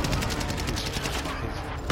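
Rapid bursts of explosive fire from an airstrike in a shooter video game, a dense rattling barrage that stays loud throughout, ending in a sharper crack.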